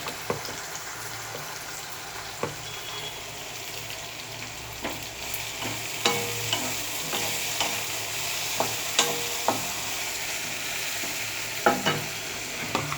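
Yardlong beans frying in oil with Kashmiri chili powder, a steady close sizzle broken by repeated scraping knocks of a spatula stirring the pan, the stir strokes coming more often toward the end.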